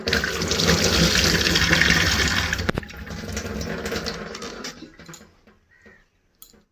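Indian pennywort (thankuni) leaves are rinsed in water: a loud, steady rush of pouring water for several seconds, then it tapers off into a few faint drips and a small knock.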